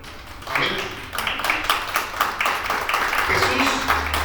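Worshippers at a church service clap together, a moderately loud, irregular patter of hands rising after a brief pause, with voices calling out underneath.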